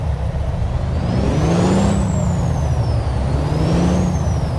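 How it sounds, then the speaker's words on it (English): A truck engine idles loudly and steadily, its pitch rising and falling twice as the engine is revved, with a whirring tone over the rumble and no speech. "And we go vroom vroom."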